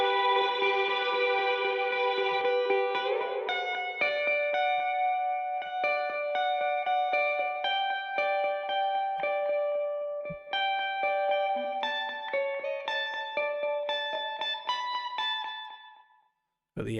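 A bright synth melody of plucked tones rings out with a wide, echoing reverb tail, ending abruptly after a brief silence.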